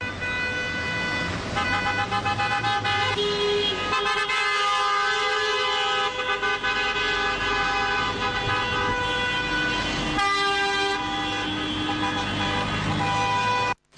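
Several taxi horns honk together in a long, blaring chorus, some held and overlapping, with steady traffic noise underneath as a protesting taxi convoy passes close by in Burdur, Turkey.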